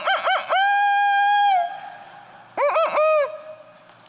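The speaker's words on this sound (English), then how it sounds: "The rooster call." A rooster crows twice, loud and close: a long stuttering call with a sustained middle, a pause, then a shorter second crow that tails away.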